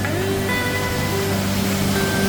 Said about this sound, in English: next to the sound of crushing and crashing water.